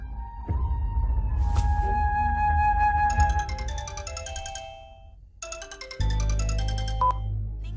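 A phone ringtone rings for an incoming call in a dramatic love scene, a looping electronic melody of bright repeated tones over a low hum. It plays loud and near, with no talk, and a short break before resuming.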